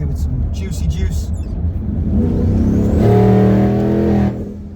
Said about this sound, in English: you can still hear the turbos and the blower valve giving little turbo noises at the end